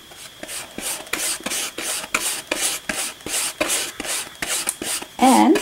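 A bristle brush drags acrylic paint across canvas in long back-and-forth strokes for a sky, making a rhythmic series of close, dry swishes, with a brief higher squeak at the end.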